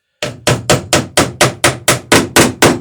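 Ten sharp, evenly spaced hammer blows drive rivets into the laps of wooden boat planking on the port side, close, loud and ringing, at a brisk steady rhythm with no talk.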